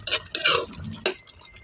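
A spoon scrapes and clinks against a cooking pot of chicken menudo, giving three or four quick, close metallic strokes with a bright ring and short pauses between them, and no one talks.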